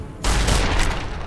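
Shotgun fire in Fallout: New Vegas, a single loud, close blast that rolls off into a brief booming tail.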